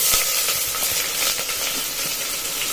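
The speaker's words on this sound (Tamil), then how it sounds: "வெங்காயம் நல்லா ப்ரௌன் கலர் வர அளவுக்கு நம்ம வதக்கி எடுத்துடலாம்" Chopped onions sautéing in hot oil with cinnamon, bay leaf, cardamom and cloves for a fish biryani: a dense, continuous sizzle with light stirring scrapes close by, no voices.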